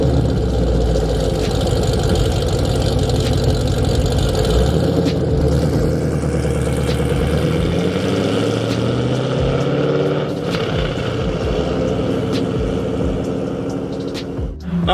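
A fifth-generation Chevrolet Camaro drives along a road, its engine a loud, sustained drone with rising and falling tones as it revs and settles, steady throughout with no talking.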